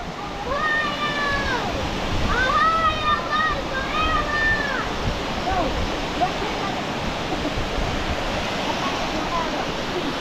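Hebbe waterfall in Chikkamagaluru roars in a loud, steady broadband rush of falling water, with brief voice-like sounds rising over it early on.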